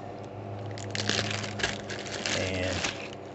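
A G35 green laser comes out of its package with close crinkling, rustling and clicking handling sounds. Bursts of crunchy plastic and light knocks sit over a faint low hum.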